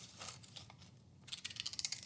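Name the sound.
scissors cutting paper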